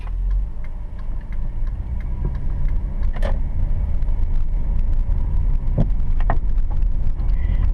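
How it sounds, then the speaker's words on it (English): A car pulls away from a parallel parking space on a street, its engine a steady loud low rumble from inside the cabin, with a few faint ticks and clicks over the drone. "if it's safe, then I'll drive off"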